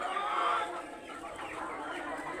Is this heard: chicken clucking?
yes